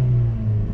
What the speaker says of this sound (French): C'est vraiment un moteur nerveux qui a du caractère.